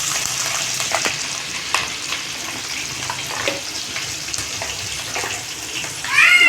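Chillies and onions frying in hot oil for egg fried rice give a steady, close sizzle with soft stirring and scraping in the pan, ending in a brief sharper rise.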